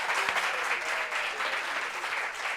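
Studio audience applause during a French-language talk show, a loud, steady wash of many hands clapping that holds evenly from start to finish without speech.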